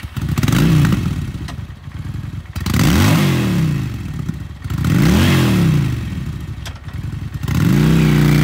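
A 2011 Honda Shadow Aero 750 V-twin cruiser motorcycle engine runs close by, revving up repeatedly in rising and falling bursts between idle dips, loud and alone.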